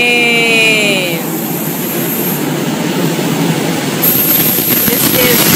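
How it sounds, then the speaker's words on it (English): A train pulls into a station at Brussels Central, a brief rising whine at the start giving way to a steady rumbling roar of cars rolling past, with a high tonal squeal near the end. "Train!"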